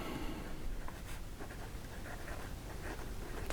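An extra fine steel-nib fountain pen writes on notebook paper, a faint, continuous scratchy scribbling with small irregular strokes, quiet and close, with no talking.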